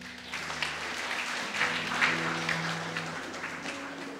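Congregation clapping in a church service, a steady wash of applause lasting the whole stretch with faint voices and some musical tones underneath.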